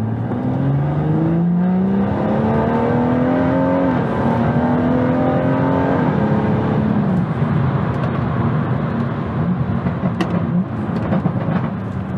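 A BMW, either an M4 CP or an M140i, drives along with its engine and exhaust droning loudly and steadily, rising in pitch through several gear changes as it accelerates, close and continuous with no talk.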